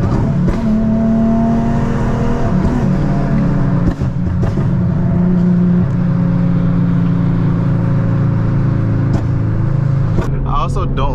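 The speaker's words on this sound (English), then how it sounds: "I can hear my rev matches in your headset." A tuned Nissan 350Z or G35 sports car engine drones loudly and steadily, with rev-matched throttle blips during a canyon run, heard as through a headset under continuous talk.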